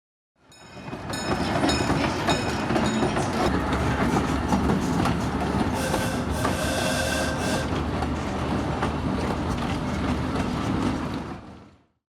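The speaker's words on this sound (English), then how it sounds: "They even had a small train, which we enjoyed." A small train at a museum in Fairbanks, Alaska, rolls past on rails, with rhythmic clacking, metallic squeals and a steady rumble that builds, holds, then fades.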